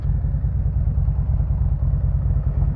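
A Harley-Davidson Road Glide ST fitted with a 131 kit and still in its break-in period idles close by, a loud, steady, deep rumbling throb with no talk.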